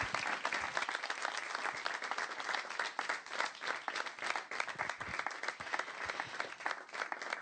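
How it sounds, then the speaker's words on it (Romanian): A television studio audience applauds steadily, a dense wash of many hands clapping at even loudness for several seconds, with no speech over it. "Vă rog aplauze!"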